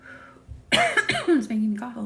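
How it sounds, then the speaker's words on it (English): A single person coughs a few times in quick succession at close range during an indoor candle ceremony, with short throat-clearing rasps between bursts. "It's making me cough a little."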